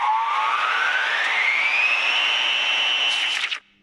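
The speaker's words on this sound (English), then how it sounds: "Washer goes swish." A home washing machine making a steady swishing, whooshing noise that rises slightly in pitch as it runs, then cuts off abruptly; loud and close with no voices.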